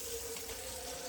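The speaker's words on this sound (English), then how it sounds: "Fill that bowl full of water" Tap water runs steadily into a bowl for chinking a cowboy cabin, a continuous close hiss and rush with a faint hum underneath, no talking.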